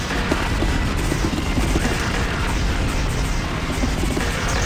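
Bomb explosions and dense gunfire in the arcade shoot-'em-up XIIZEAL/DELTAZEAL form a loud, continuous wash of booming blasts and rattling shots that holds steady throughout with no pauses.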